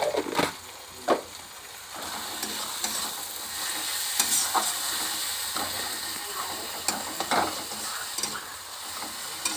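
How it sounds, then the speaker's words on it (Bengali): Masala spices frying in oil in a pan for ghugni, with a soft continuous sizzle broken by intermittent spatula scrapes and stirring knocks, fairly quiet and without talk. "এবার মশলাটা ভাজা ভাজা হয়ে গিয়েছে, তেল ছেড়ে গিয়েছে"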